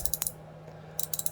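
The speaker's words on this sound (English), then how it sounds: "when you reverse it, it just sweeps the pawl to the other side" A DeWalt 3/8-inch ratchet being reversed, its small pawl snapping across in two quick bursts of sharp, close metallic clicks separated by a short pause.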